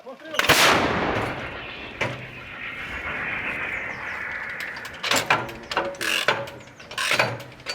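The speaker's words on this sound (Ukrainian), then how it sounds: "це естонська гармата FH70 155 мм" An Estonian FH-70 155 mm towed howitzer fires once with a loud, close blast that rolls into a long rumble, followed by sharp metallic clanks and knocks from the gun's mechanism.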